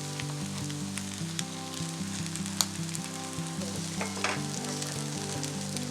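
Aloo kofta balls fry in oil and are turned over, giving a steady close sizzle broken by light clicks and scrapes as they are flipped, with a faint low hum underneath and no talking.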